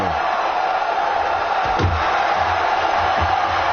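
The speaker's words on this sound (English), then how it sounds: "The crowd really getting into this one." Wrestling arena crowd in WWE 2K17 cheers as a steady, dense roar throughout, with a couple of dull thuds from the ring cutting through the constant noise.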